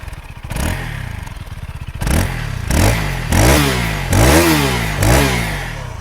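A Zontes 350 single-cylinder motorcycle engine idles with a fast chugging beat, then is revved in several sharp, close blips that rise and drop quickly back down.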